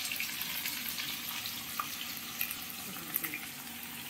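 Potatoes fry in a pan with salt and turmeric, a soft, even hiss of sizzling oil with a couple of faint clinks, fairly quiet and steady, no voices.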